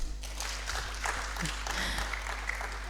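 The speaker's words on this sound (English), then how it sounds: "Can we clap for him?" Applause at a multidisciplinary research conference in Uganda, a moderate scattering of claps over steady hum, fairly even throughout with a brief voice in the middle.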